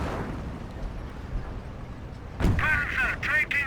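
Gunfire and a heavy shell impact hit a Panzer tank in the Company of Heroes video game, with a low rumble of battle before a single loud boom and ringing metallic aftermath.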